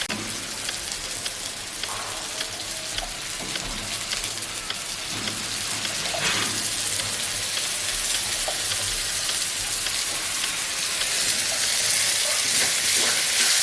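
Ginger, garlic, green chilli and tomato fry in hot oil for a snakehead fish curry, giving a steady, dense sizzle and hiss throughout that grows slightly louder toward the end, with faint pops and no talk.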